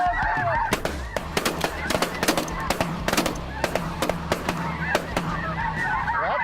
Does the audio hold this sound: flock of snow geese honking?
yes